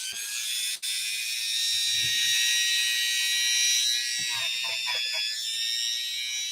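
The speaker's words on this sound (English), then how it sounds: "This one I should be able to do okay with the Dremel," Dremel rotary tool cleaning a part from a Singer 201-2 sewing machine, a loud, high continuous whine held close by, with brief dips and faint scraping contact noises beneath.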